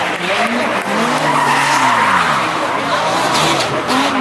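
Tesla Model 3 tires skidding while doing donuts at a car meet, a loud continuous rubber squeal with wavering pitch, close and sustained over crowd noise.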